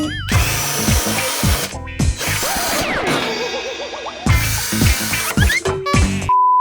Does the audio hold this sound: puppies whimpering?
no